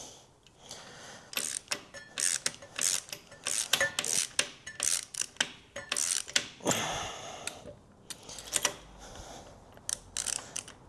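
A stud extractor winds a stud out of an old Steyr T80 tractor during a water pump job, making irregular close metallic clicks and scrapes in short bursts with brief gaps, fairly quiet overall.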